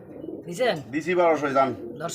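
A grizzle pigeon coos close by, a couple of throaty rising and falling coos in quick succession, loud and clear with people at a pigeon sale in the background.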